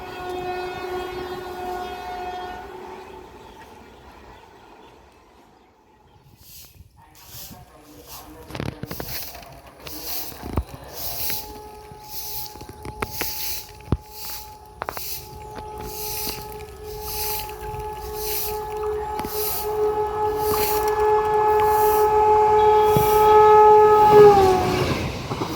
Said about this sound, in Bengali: লালগোলা শিয়ালদা প্যাসেঞ্জার।